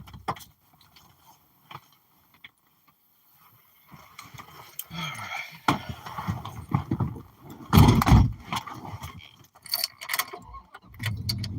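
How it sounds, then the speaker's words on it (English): Keys jangle in short metallic bursts while someone gathers gear for an evidence-collecting outing, mixed with rustling and handling noise of varying loudness, close to the microphone. "Let me grab my keys."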